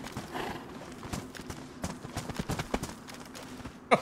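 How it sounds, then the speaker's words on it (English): Horse galloping in the DayZ video game, a rapid, uneven series of hoof clip-clops, fairly close and moderately loud, ending in a sharper burst, with no talking. "Oh, the horse!"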